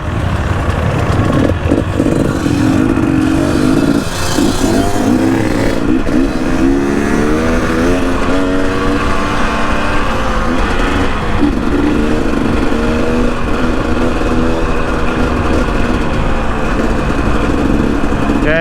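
A motorcycle engine idles and revs up close for a long stretch before an off-road trail-riding event, loud and steady with rising and falling pitch as it warms up.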